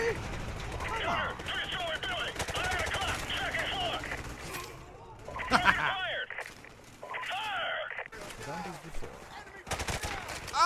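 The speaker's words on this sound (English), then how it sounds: "I am shooting!" Gunfire in Call of Duty: Modern Warfare Remastered, with bursts of shots running through the clip and players talking over them.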